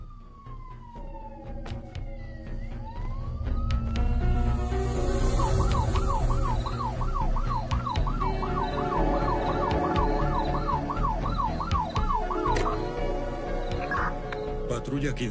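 Police sirens grow louder over a rumbling engine, shifting from a long rising wail into a fast, repeated whooping tone that keeps going.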